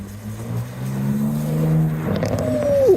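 A BMW arriving at a car meet: a steady engine hum rolls in close by, then the pitch climbs in a short rev as it pulls through.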